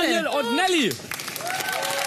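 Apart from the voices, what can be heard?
studio audience applause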